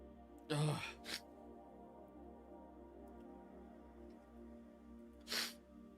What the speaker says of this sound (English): that was a painful sneeze